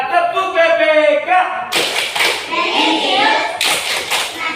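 A class of fourth-grade children chants, then bursts into loud, dense group clapping for the BPK clap routine, the claps overlapping into a rough rhythmic roar in the classroom.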